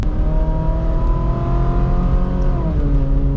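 A 2010 Ferrari 458 Spider engine revs loud and close, a steady rich drone that climbs slightly in pitch and then dips as the revs are eased off, with no talk over it.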